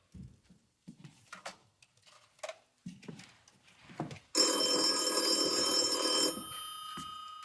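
A telephone bell rings loudly and steadily for about two seconds in an old film-noir interior, after some quiet movement and rustling, then stops abruptly.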